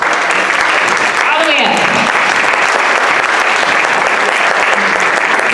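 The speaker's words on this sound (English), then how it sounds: "I'd like to give you a big round of applause" An audience applauds steadily and loudly at a community film event, the clapping holding an even roar throughout while a voice speaks over it.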